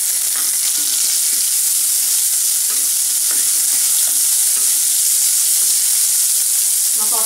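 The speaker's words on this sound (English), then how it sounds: "Now saute this till this onion becomes really soft." Onions, green chilies and cabbage sauté in a pan with a loud, continuous hiss, broken by occasional light scrapes and clinks of stirring up close.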